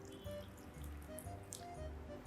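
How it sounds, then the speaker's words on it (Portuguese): Water is poured onto sugar and yeast to start a pizza dough, giving a faint, quiet trickle with light drips in a still kitchen. "E agora eu vou colocar a água."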